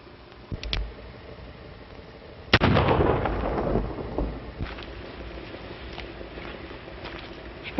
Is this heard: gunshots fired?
yes